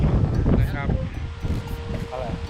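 Strong wind blowing outdoors at a mango-orchard fishing pond, a steady broadband roar buffeting the microphone throughout while people talk over it.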